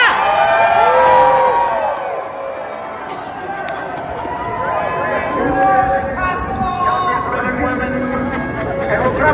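A large political rally crowd roars, cheers and shouts in a dense, continuous wall of voices, with individual whoops and chant-like calls rising above the steady noise throughout.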